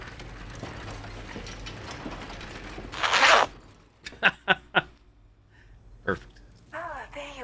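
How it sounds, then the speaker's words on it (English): Zipper sound effect in a game, a long tent-door-like unzip of about half a second, followed by several short clicking mechanical ticks amid background game audio and music. "When I hear Zipper lasting that long, I think of a tent door getting unzipped."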